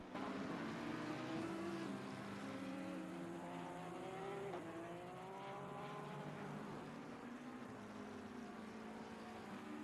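Race cars including a Porsche and a McLaren lapping the Nürburgring in a racing video game, engines droning and rising in pitch through gear changes, a steady loud whine with no talk.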